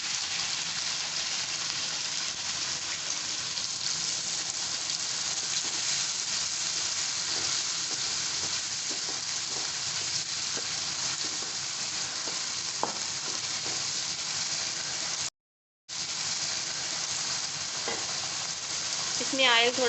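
Onions frying in hot oil in a wok, a steady, close, loud sizzle that runs unbroken apart from a brief cut near the end, with faint stirring scrapes.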